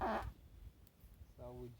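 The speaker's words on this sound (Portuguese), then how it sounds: "Se apertar aqui, dá uns peidinhos." A squeezed object lets out short fart-like squeaks, one at the start and another near the end, close and fairly loud, with people talking at an outdoor campfire.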